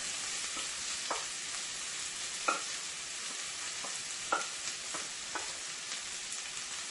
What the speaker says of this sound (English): We have our oil into the pan. Let's add our mixture here.